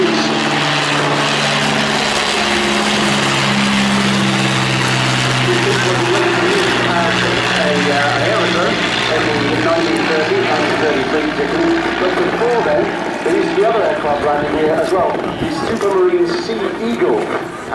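A de Havilland DH.84 Dragon propeller biplane drones steadily and loudly overhead on a practice approach to a beach in Jersey, its engine pitch slowly shifting as it approaches, with someone talking over the noise.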